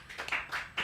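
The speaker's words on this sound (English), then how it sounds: "round of applause to Kaye, Ben, and Syafiq." A small group claps briefly for livestream guests, a few quick, light handclaps under a second long, fairly close.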